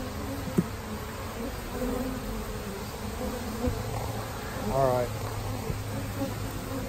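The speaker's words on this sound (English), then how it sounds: "I gotta figure out what to do with these bees." Honeybees buzz around an opened swarm trap holding brood and honey frames, a dense, steady hum close by with individual bees droning past, while a person briefly speaks under it.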